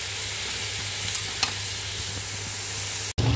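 Chicken frying in a pan while being stirred, a steady close sizzle with a couple of brief scraping stirs, ending in a short gap before the sizzle resumes.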